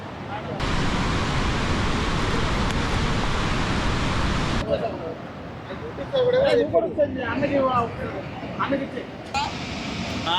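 Water rushing through the opened gates of the Srisailam dam makes a loud, steady roar for about four seconds; then the roar drops away and people talk over quieter water and wind.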